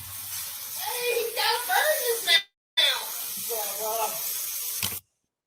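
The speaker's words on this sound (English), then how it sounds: "What this is the sound of Alec using the garden hose to spray down the floors" A garden hose sprays down concrete floors, making a steady broad hiss while a voice talks over it, broken by a brief silent gap partway through.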